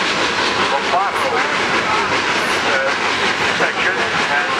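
A Cumbres and Toltec railroad narrow-gauge train running along its tracks, a loud, steady close rumble with hissing and rhythmic clatter from the cars, someone talking over it.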